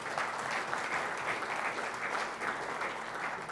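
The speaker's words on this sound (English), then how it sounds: "Warm round of applause for the referee for this match," Warm audience applause at a world eightball pool championship final, honouring the match referee: a steady, continuous patter of many hands at moderate distance, with no speech over it.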